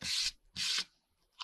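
Book pages rubbed together by hand to stick them, two short, close papery swipes followed by a fainter third, quiet otherwise.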